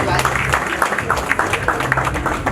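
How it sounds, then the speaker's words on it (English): Guests at a party for Dr Manfred Ojong give Auntie Clara a round of applause, a loud, continuous clapping crowd with voices mixed in. "A big round of applause to Auntie Clara"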